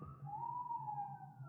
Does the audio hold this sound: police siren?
yes